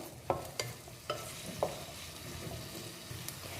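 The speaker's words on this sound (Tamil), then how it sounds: "இது எல்லாத்தையுமே நல்லா வதக்கிக்கலாம்" Onion and beetroot sautéing for chutney in a pan, a low steady sizzle with a few soft spatula scrapes and taps, close and quiet with no voice.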